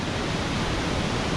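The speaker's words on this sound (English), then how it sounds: "Well, those are some cool falls right there." A rainforest waterfall in winter rushes as a steady, dense roar of falling water that stays even and loud throughout, with no voices over it.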